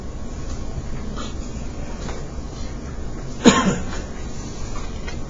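A single brief cough sounds once over a steady background hum, fairly quiet.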